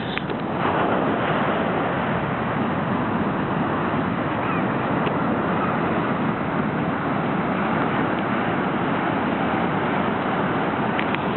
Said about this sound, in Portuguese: estão as ondas bravas